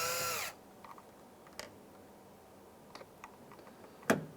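Small Phillips screws being backed out from behind the interior door handle cover of a 2003-2011 Honda Element, heard as faint, scattered clicks and light metallic ticks after a brief louder burst at the start, with no talking.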